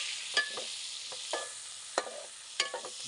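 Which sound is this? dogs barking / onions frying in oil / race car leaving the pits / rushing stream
onions frying in oil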